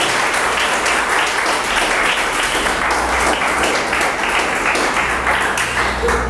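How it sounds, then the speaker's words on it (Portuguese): Church congregation applauding, a loud, dense and continuous wall of clapping from a full room that holds steady throughout without pause. "Pode aplaudir o Senhor"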